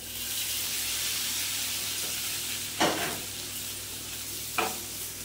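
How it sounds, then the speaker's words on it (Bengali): Fried chicken pieces go into a hot pan and are stirred, a steady sizzle and hiss of frying with two sharp scraping clatters of the spoon against the pan. "এবার দিয়ে দেব মাংস, ভাজা মাংসগুলো"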